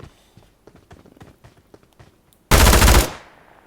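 An automatic rifle fires one dense, loud burst in a battle royale video game on the Livik map, preceded by a quick run of light footsteps.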